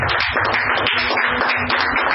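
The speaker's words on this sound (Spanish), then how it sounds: "Dale un aplauso a Cristo en esta noche." Church congregation clapping, a close, continuous patter of many hands with a loose rhythmic pulse, brief and alone without talk.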